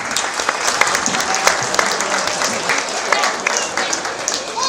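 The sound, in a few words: round of applause for young exhibitors at an animal show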